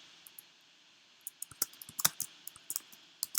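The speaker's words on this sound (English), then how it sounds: "just typing in random ones" Sparse, irregular clicks of keys being typed on a computer keyboard, quiet at first, then a quicker burst of keystrokes in a still room.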